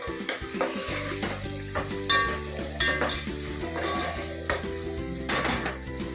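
Chillies and onion sautéing in a pan, a continuous loud sizzle broken by repeated stirring scrapes and taps of a spoon against the metal, with no speech.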